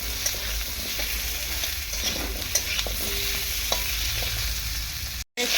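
Potatoes fry in hot oil while being stirred in a pan, making a steady close sizzle with scraping stir strokes and a brief cut near the end, no voices.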